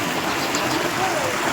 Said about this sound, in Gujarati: પાણી આજે પણ ચાલુ છે।